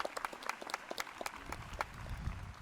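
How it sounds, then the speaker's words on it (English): A graduation audience applauds the platform party at a college commencement, scattered individual claps building into a soft, fairly distant round of applause. "Let's give them a big round of applause"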